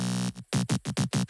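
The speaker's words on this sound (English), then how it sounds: "Yep, it's Serum and it sounds like this." A Serum synth bass patch from an FL Studio remake plays alone: one held note, then a quick run of five short, punchy pulses in an even rhythm.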